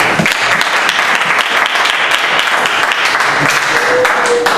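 A church congregation applauding together during a service, dense continuous clapping that fills the room, loud and close, with some voices faintly underneath.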